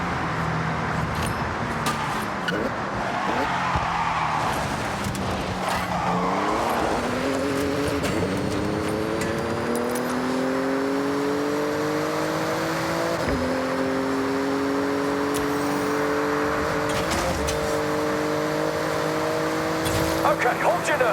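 A Porsche racing through a speed zone in Forza Horizon, its engine climbing through rising revs with gear shifts, plus some tire noise, loud and steady the whole time, with talk over the top.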